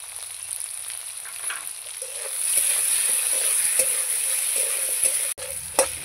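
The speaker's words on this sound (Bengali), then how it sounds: "গাঠি কচুগুলো লাল লাল করে ভেজে নেব।" Pieces of taro (arbi) frying in oil in a wok, a steady bright sizzle with occasional stirring scrapes and clinks, close and continuous, no one talking.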